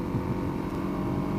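Suzuki DRZ dual-sport motorcycle with a 5-speed gearbox cruising along a Texas countryside highway, a steady low engine drone blended with constant wind rush, close and continuous, no talking.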